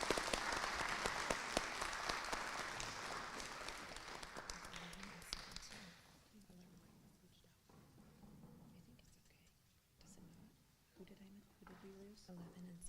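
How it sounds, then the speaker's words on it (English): Audience applause at a district school spelling bee, dense clapping for the student scholars for about six seconds before fading into quieter room murmur and low chatter. "Another round of applause for our scholars,"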